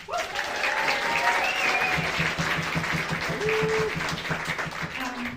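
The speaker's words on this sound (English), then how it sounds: "Give me a huge round of applause." A big round of applause from a holiday concert audience for an advanced youth ensemble of banjo and guitar players, steady and full, with some voices and a few tonal sounds poking through.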